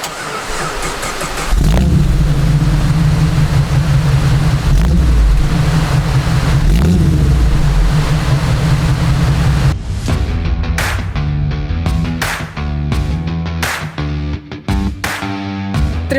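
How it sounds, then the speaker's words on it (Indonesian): A 1985 Jeep CJ7 Laredo engine starts after a short crank and settles into a loud, steady idle close by, then gives way to a series of sharp revs and bursts toward the end. "Boleh kita dengerin mesinnya?"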